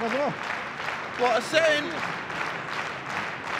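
Crowd applause fills a pro wrestling arena during a GHC heavyweight title match, a steady wash of clapping under a commentator's brief talk, with faint whistles rising now and then.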